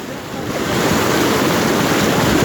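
Floodwater rushes past a village in Darbhanga, Bihar, a loud, continuous broadband roar mixed with wind buffeting the microphone, steady and close.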